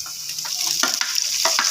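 Onions and garlic fry in a pan for tindy chicken, giving a close, steady sizzle with a few sharp crackles and stirring scrapes throughout.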